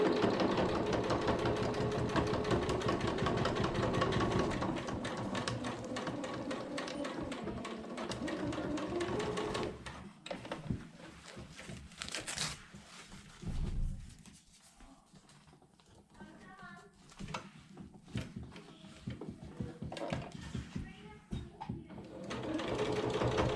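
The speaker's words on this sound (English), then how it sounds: "I will get hopefully all of the quilting done" A sewing machine stitches quilting lines through a placemat made from fabric trimmings, running in a steady fast whir for about ten seconds, then starting and stopping in shorter bursts.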